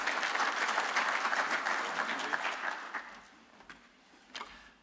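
Conference audience applauding as a speaker comes up to address a plenary session, dense clapping that thins out toward the end into a few scattered claps.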